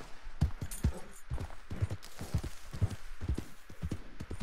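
Horse hooves in the video game Red Dead Redemption 2 clip-clop in a steady galloping rhythm, close and fairly loud, with faint rustling behind.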